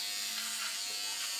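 Gillette ProGlide Styler electric beard trimmer running at the level three setting, a steady close buzzing hum held without a break and with no talk over it.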